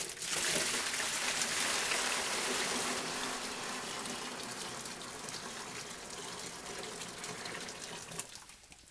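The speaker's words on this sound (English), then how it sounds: "(175-degree) strike water to preheat the mash tun." Hot strike water at about 175 degrees gushes steadily into a mash tun to preheat it for an all-grain Kashmir IPA homebrew batch, a loud rushing pour that eases slightly over time and tapers off near the end.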